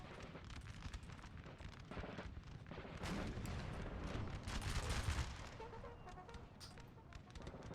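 Musket line infantry firing volleys in the Napoleonic game Napoleon: Total War, a dense crackle of scattered shots and booming artillery, swelling into a heavier burst midway, somewhat distant and muffled.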